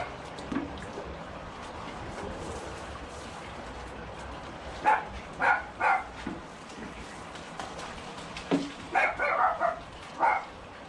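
A dog barks in two short bursts, three or four barks each, at a moderate distance outdoors over steady wind and background noise.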